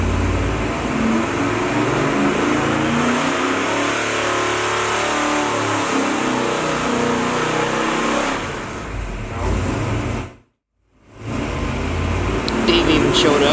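A 384 cubic inch Oldsmobile engine revving on a dyno, loud and sustained with a rising, roaring note and a brief cut-off near the end, with people talking over it.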